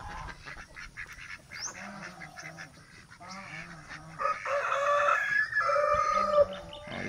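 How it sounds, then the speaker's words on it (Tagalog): A group of Pekin ducks on a farm, honking and quacking in repeated nasal calls, close and fairly loud, growing busier and more overlapping toward the end. "Oh, yung mga Peking duck natin,"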